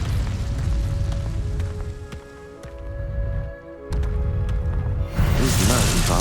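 Incendio fire spell blasts in Hogwarts Legacy, deep booming fiery bursts under a rumbling game soundscape with steady tones, ending in a louder crackling whoosh; a voice speaks over it.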